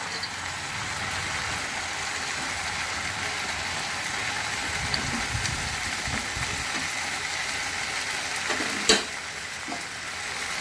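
Bori lentil dumplings frying in a pan with water spinach, a steady close sizzle running throughout, with light stirring scrapes and a sharp clack near the end.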